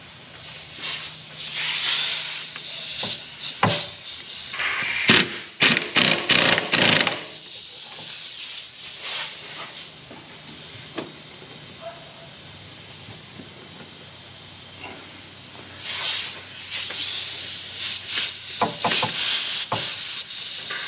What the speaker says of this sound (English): let's spin the drive shaft here